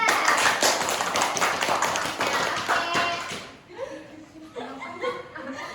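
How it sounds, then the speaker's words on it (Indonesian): A classroom crowd claps together for a few seconds, dense and steady, then the applause breaks off and scattered light laughter and murmuring follow. "Tepuk tangan dulu dong untuk Aida."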